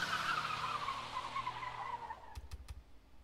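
Cars in Nina Aquila: Legal Eagle skid with a long squealing tire screech that slowly descends in pitch, followed by a few short sharp knocks.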